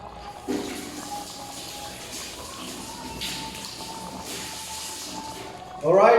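A covered pot of sinaing na tulingan fish boiling on the stove gives off a steady soft hiss and simmer for several seconds, ending in a brief louder rustle.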